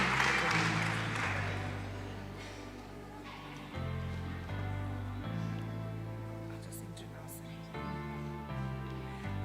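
An audience at a university Chancellor's Distinguished Alumni Awards ceremony applauds, with brisk clapping loudest at first, then continuing beneath steady tonal music that plays through the rest.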